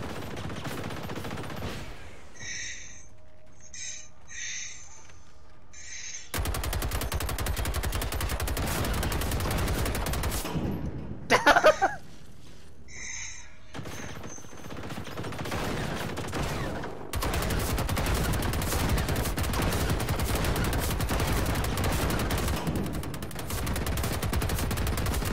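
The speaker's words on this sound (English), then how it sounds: "Oh my god, that's incineration rounds!" Sustained bursts of automatic gunfire from incineration rounds fired by The Reaper in Generation Zero, loud and dense in long continuous stretches, broken by brief quieter gaps with faint pulsing tones and a few sharp individual cracks near the middle.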